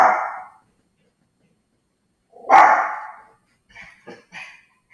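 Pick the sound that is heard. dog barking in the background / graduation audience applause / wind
dog barking in the background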